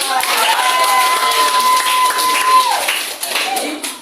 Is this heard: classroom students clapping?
yes